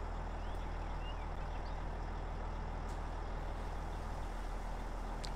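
A heavily loaded truck in Farming Simulator 22, carrying corn, unloads with a steady, loud engine drone and a dense hiss. It is continuous and unbroken, with faint high squeaks and no speech.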